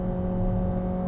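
Corvette C8 engine idling or holding steady revs through its loud stock exhaust, a continuous low droning hum with strong tones, close and unbroken for about a second.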